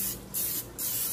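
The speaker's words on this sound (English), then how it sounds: "I'm also gonna spray with some olive oil" Olive oil cooking spray misted onto a baking dish during dinner prep: two short, bright hissing bursts from the can, close and clear with a brief pause between them.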